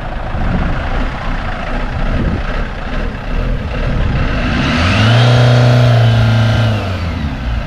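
A caravan's engine, in a motorhome with an engine fault, runs loud and close, then revs up under throttle near the end with a rising, sustained roar before easing off.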